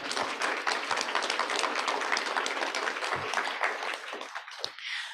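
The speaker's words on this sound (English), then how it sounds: "You can clap." An audience at a plenary session claps steadily, a dense burst of applause that thins out and fades toward the end.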